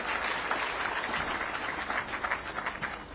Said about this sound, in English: Round of applause there for Hope Moreira.